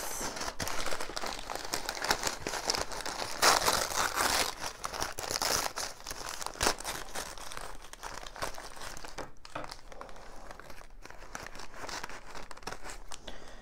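Packaging padding crinkles and rustles continuously as it is pulled away from a shipped variegated Syngonium plant, with close, irregular crumpling and occasional tearing, busiest early and then quieter.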